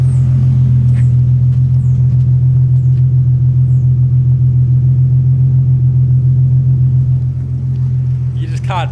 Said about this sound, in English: It's really, really deep and gurgly, especially when it's idling.